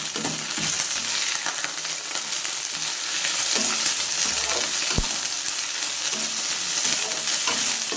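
Cooked rice being stirred in a pan for curry leaf rice, giving a close, steady sizzle with soft scraping strokes and one sharp utensil knock.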